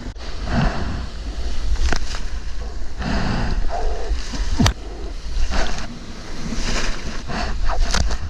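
Ocean waves break over a sandbank at a surf spot with some swell running, heard from the water as loud rushing surges and splashes mixed with heavy wind buffeting the microphone.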